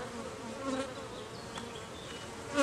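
Bees swarm and buzz around a freshly made hive split outdoors, a dense continuous hum with individual insects droning close by and passing.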